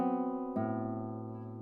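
A guitar chord with open strings rings out, then a second chord is struck around the midpoint and sustains, slowly decaying, played alone with no talk.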